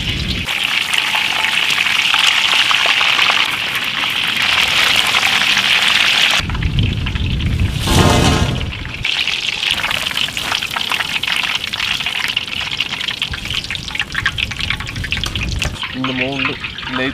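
Kerala-style fish pakora coated in gram flour batter fries in hot oil, making a loud, steady sizzling hiss that swells as pieces are dropped in. A voice talks intermittently over the frying.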